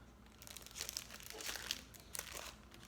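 Plastic bag holding an HO scale model kit crinkles and crackles close up in a few short handled bursts, fairly quiet overall.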